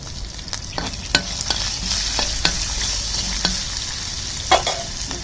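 Cumin and asafoetida fry in hot oil for a chutney tempering, giving a steady close sizzle broken by sharp little pops and crackles, with no voices.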